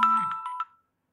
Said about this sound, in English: my husband's just ringing me